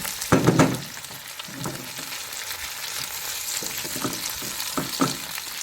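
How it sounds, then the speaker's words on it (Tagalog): Carrots and potatoes sautéing in a hot pan give a steady sizzle broken by a few louder scraping bursts of stirring. Close, with no voices. "Ginisa ko na itong ano guys, yung carrot at potato para madaling maluto"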